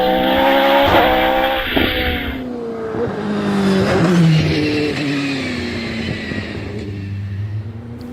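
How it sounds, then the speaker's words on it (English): A Pilbeam MP97 race car with a 4-litre Judd V8 screams up a hillclimb course at Harewood, its engine note rising and falling sharply through gear changes, loud and close, with a hint of tyre squeal. "Looking out for Sandra Tomlin in the 4-litre Judd V8 powered Pilbeam MP97."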